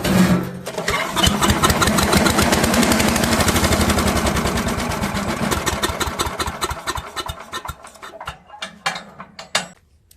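Old wood chipper engine, unstarted for 20 years, cranked on choke at full throttle, giving a fast rapid chugging that sputters and nearly catches, then falters into uneven pops and dies away.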